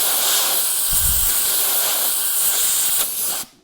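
Compressed air hisses in a steady, loud blast to dry a sticking switch on a Honda Goldwing motorcycle, cutting off abruptly near the end.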